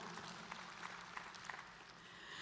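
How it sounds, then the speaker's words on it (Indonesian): Church congregation clapping during a Sunday morning sermon, a faint, steady wash of applause with scattered louder claps, heard at a distance. "Berikan tepuk tangan buat Allah kita."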